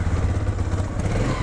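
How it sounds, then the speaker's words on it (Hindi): A 2022 Bajaj Avenger Street 160 BS6 motorcycle engine runs close by with a low, uneven chugging throb, its beat stumbling irregularly as it misfires, loud and without voices. "तो बाइक मिसिंग मारना स्टार्ट हो चुका है"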